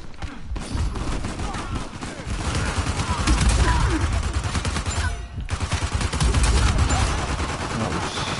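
Rapid bursts of automatic gunfire fill an Uncharted 4 multiplayer match, loud and continuous with short gaps, while a player talks over the shooting.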